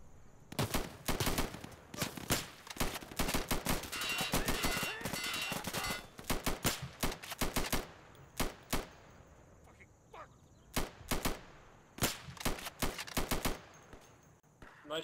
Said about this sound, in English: So that was just a quick little firefight there at the beginning of the match.